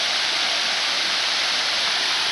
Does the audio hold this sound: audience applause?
no